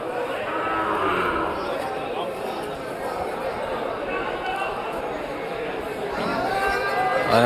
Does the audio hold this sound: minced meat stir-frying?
no